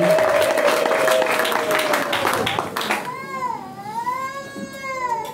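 A church congregation claps loudly and ululates, dense crowd applause at first, then high wavering trilled ululation cries rising and falling over the fading clapping.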